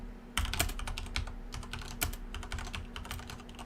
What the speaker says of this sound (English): I use a mechanical keyboard because why aren't you using one?